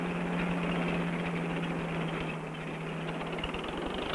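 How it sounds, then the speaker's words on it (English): A corn harvester on a 1960 family farm strips ears from the stalks and husks them, giving a continuous rattling mechanical drone with a steady low hum throughout and no voices. "This machine strips the ears off the stalks and husks them."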